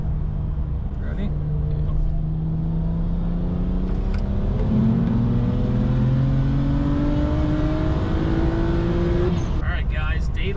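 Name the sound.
BMW N54 135i single turbo car accelerating in third gear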